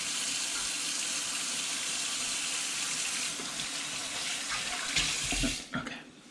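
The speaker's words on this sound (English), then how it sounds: "Make sure I wash my hands." Water runs steadily from a kitchen tap as hands are washed before cooking, a close continuous splashing stream that shifts briefly near the end as the flow is disturbed.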